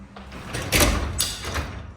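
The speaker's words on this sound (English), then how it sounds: "you want to lock your door into the trolley up here" A garage door trolley clicks and locks onto the rail of a Liftmaster opener with two short metallic clunks, close and moderately loud over a faint background hiss.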